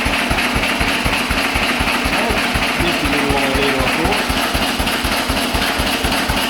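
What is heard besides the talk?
old stationary engine running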